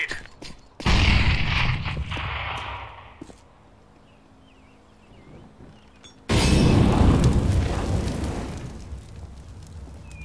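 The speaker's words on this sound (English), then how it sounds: "Flashbang. Throwing a grenade." Flashbang grenade exploding in CS:GO, a loud sudden blast that decays over a couple of seconds, a quiet stretch, then a second loud burst of noisy roaring sound that lingers to the end.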